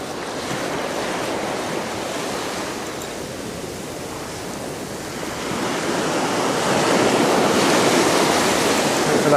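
Ocean surf rolls onto a beach at Southbourne during shore fishing, a loud, continuous roar of breaking waves with wind buffeting the microphone, building stronger toward the end.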